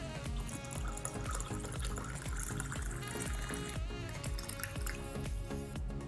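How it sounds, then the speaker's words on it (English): Club soda pours and fizzes into a cocktail glass at a steady, continuous trickle, the bubbling close and clear over light kitchen background. "top this up with some club soda to really give it some fizz and bubbliness on your tongue"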